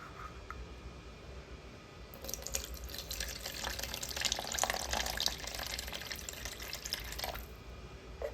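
Water poured into a homemade gentle acne cleanser mixture made with natural extracts, a steady splashing, trickling pour lasting about five seconds at close range, with no talking.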